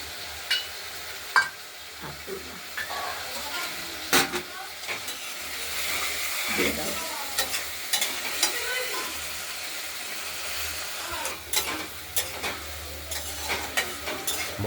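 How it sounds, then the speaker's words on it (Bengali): Spice paste sizzles and is stirred in a pan while cooking a katla fish curry with potatoes, beans and tomatoes; gentle continuous frying hiss with intermittent scraping and clinks of the spatula against the pot. "মশলাটা দিয়ে কষানো চলছে।"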